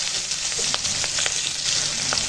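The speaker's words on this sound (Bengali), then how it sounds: "ওই মাছ ভাজার তেলে দিয়ে দিলাম পেঁয়াজ কুঁচো আর কাঁচা লঙ্কা কুঁচো" Chopped onion and green chilli fry in oil left over from frying fish, a constant soft sizzle up close with small crackles and occasional stirring.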